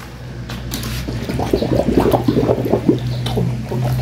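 Water gushes and gurgles into a container as it is collected outdoors, a close, bubbling splash that swells and then eases, over a steady low hum.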